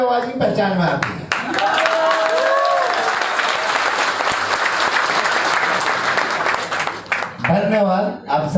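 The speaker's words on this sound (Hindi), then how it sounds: "मुझे केवल ताली वाली आवाज ही पहचान में आती है।" An audience at a live event breaks into sustained applause, a dense wash of clapping that holds for several seconds, with a voice speaking before and after it.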